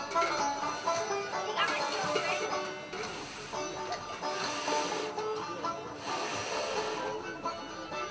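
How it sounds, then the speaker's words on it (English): Repeated breathy puffs blown into char cloth and pine straw tinder caught from a flint-and-steel spark at an outdoor living-history festival, strong rushing bursts coming every second or so, close to the listener. "Some shriveled up, raveled pine straw works really well, and you just blow."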